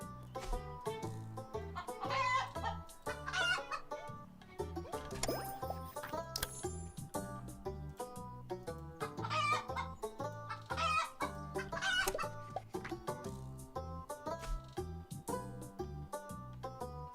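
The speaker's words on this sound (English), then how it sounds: "More chickens." Chickens cluck repeatedly in the video game Terracards, short clucks and squawks bursting in a steady rhythm over busy background music, fairly loud throughout.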